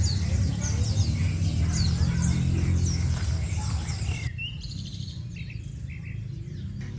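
Wild birds chirping outdoors in nature, a scatter of bright tweets and calls over a low rumbling background with faint insect hum, moderately loud and fading in the last few seconds.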